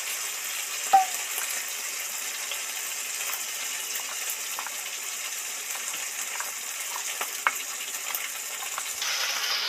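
Spice paste for mutton curry frying in hot oil, a steady close sizzle with occasional sharp pops and crackles throughout.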